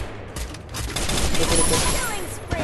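Continuous rapid gunfire in a mobile battle-royale shooter game, a loud, dense burst of shots lasting the whole moment, with a player talking faintly underneath.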